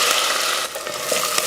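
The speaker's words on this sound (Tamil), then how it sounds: "எண்ணெய் காஞ்சதுமே கடுகு உளுந்து, கடுகு பொரிஞ்சதுமே கொஞ்சம் கருவேப்பிலை" Mustard seeds and urad dal sizzle and crackle in hot oil as tempering for sambar, a steady close hiss with small pops throughout a short burst.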